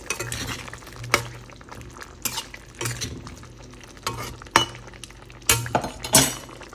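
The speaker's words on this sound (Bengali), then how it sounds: "মিশিয়ে নেব" A spoon stirs cooked vegetables with garam masala and ghee in a pan, making repeated scraping clinks against the metal in an irregular rhythm over a faint sizzle.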